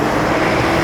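A Brave intercity bus pulls away from a terminal, giving a loud, steady engine rumble with broadband roar, heard close and alone for a brief moment.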